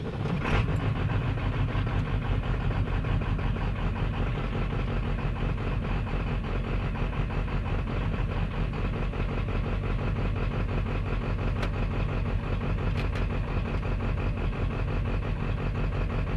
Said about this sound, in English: I have a small injector problem, that's why it's running currently rough.